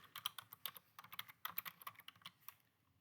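Quick bursts of computer keyboard typing, close and fairly quiet, irregular clicks with short pauses between words.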